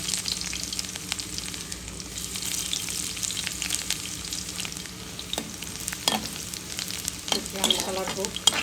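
Chopped garlic frying in hot oil, a steady close sizzle with occasional spoon scrapes and stirs toward the end.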